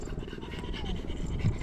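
A dog pants rapidly and rhythmically during a morning walk along a seawall in bad weather, quick close breaths over wind and outdoor background noise.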